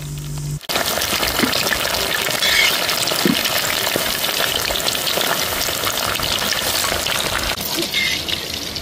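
Food frying in a pan with a steady, close sizzle and crackle that starts abruptly and continues without pause, with occasional louder pops and spatters.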